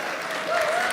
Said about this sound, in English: They clap for New Yorkers in Holland, Michigan